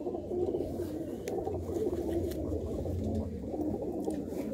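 Pigeons of a sandhuri breed coo steadily in a low, continuous murmur, several birds overlapping close by in a loft with no talk.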